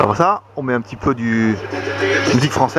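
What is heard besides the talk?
No distinct noise like a dog, phone or traffic.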